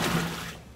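Boiling water from blanching chicken feet poured from a pot into a sink drain, a brief loud rushing splash close by that fades away.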